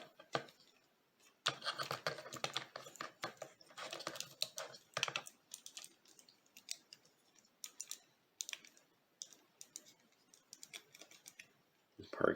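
Hard plastic parts of a Transformers Prime Voyager Dreadwing figure being folded, flipped and snapped into place, giving a run of sharp close clicks and scrapes in irregular bursts with pauses between.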